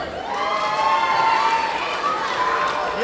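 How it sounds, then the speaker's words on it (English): A cheering section of family and friends at an 8th grade middle school recognition ceremony whoops and cheers for a graduate, a loud, sustained crowd roar with shouts rising over it. "You have your own cheering section."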